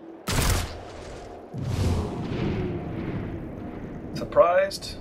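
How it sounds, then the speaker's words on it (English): A short burst of gunfire in the turn-based tactics game XCOM: Chimera Squad, a loud blast near the start followed by lower rumbling effects, with a person talking over the game sounds. "So let's open fire on him"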